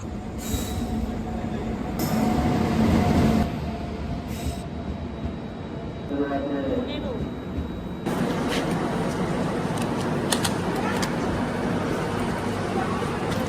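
A train pulling into a station around midnight, with a rumbling rolling roar, wheels squealing, and clanking carriages close by, continuing throughout while voices talk in the background.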